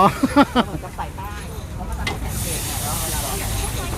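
Food being stir-fried in a pan at a Thai street-food vendor's kitchen in Nong Chok gives a steady broadband sizzling hiss, with a voice speaking briefly at the start.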